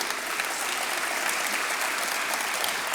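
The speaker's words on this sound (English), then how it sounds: "So would you give her a big round of applause, because she has a lot of work to do." Audience applause fills a closing ceremony hall, a dense steady wash of many hands clapping at even loudness for the full stretch, with no talk over it.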